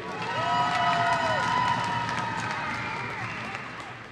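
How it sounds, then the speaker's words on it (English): A crowd cheers and applauds at a Broncos hockey game as the mini muskies are welcomed, a broad sustained roar with whistles and shouts that swells early and then slowly fades over about four seconds. "A big round of applause for Maya York and Amelia Pastilli."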